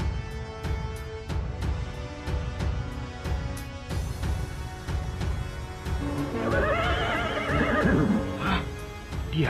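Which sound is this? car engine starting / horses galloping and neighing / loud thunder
horses galloping and neighing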